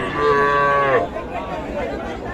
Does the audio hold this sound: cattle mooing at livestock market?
yes